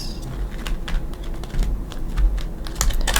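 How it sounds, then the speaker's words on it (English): Quick, irregular papery clicks and riffles from tarot cards being shuffled close by, a steady busy patter with no talking. "let's give them a couple shuffles"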